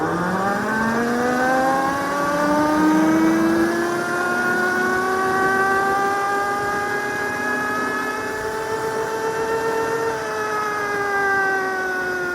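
A Cemoto D02 budget electric motorbike climbs a hill at top speed on fresh asphalt, its motor giving a steady rising whine with several harmonic tones that climb slowly, then dip slightly near the end, loud and close without speech.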